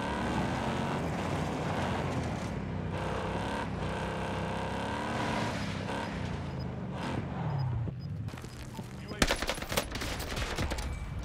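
A steady car engine hum drones throughout, joined near the end by a burst of rapid gunfire, all in a Call of Duty: Warzone Pacific soundscape.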